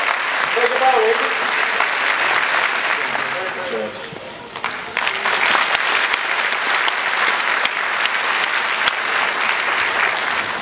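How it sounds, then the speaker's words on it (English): An audience at an Irish citizenship ceremony breaks into loud, dense applause, briefly thinning for a moment before swelling again and carrying on strongly to the end. "give yourselves a big round of applause"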